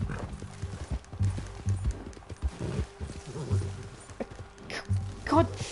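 Horse hooves clip-clop in uneven bursts in Red Dead Redemption 2, mixed with a whinny and someone shouting excitedly over them.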